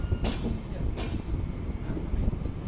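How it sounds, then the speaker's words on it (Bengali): A train rolls slowly into Krishnanagar City Junction station, heard from inside as a quiet, low rumble with two sharp bursts of clatter, and no one speaks. "আমাদের ট্রেন ঢুকছে কৃষ্ণনগর সিটি জাংশনে।"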